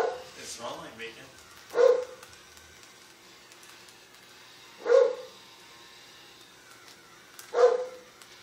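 A dog gives three loud, separate barks spaced a few seconds apart, each short and sharp, with quieter household sounds and some talk in the gaps between them.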